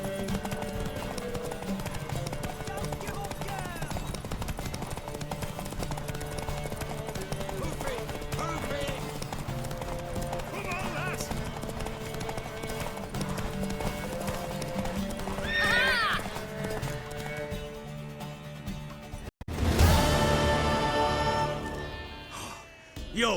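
Horse hooves clip-clopping at a gallop with a neigh in The Witcher 3 game, set against a constant musical and ambient bed, with a louder burst near the end.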